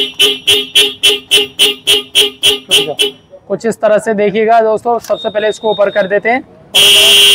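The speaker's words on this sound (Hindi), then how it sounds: "जो इसके हॉर्न के साउंड है वो आप सुन पा रहे होंगे" A loud motorcycle horn with an eight-sound horn tuner honks in a rapid string of evenly spaced beeps, then gives way to a person talking, before a long steady blast closes it out.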